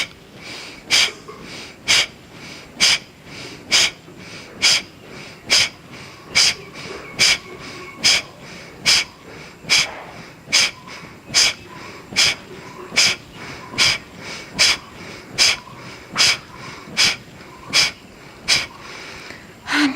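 Kapalabhati yogic breathing during an immunity stretching session: a steady series of forceful, sharp nasal exhalations, roughly one per second and around two dozen in all, close and clear with soft passive inhales between them.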